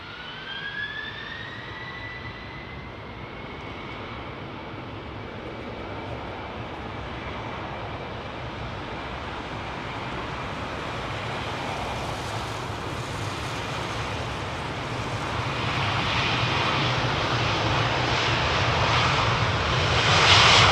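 An Emirates Airbus A380 jet in ICC Men's T20 World Cup 2021 livery takes off at Heathrow, with a rising engine whine over a deep, growing roar that swells louder toward the end, close and alone.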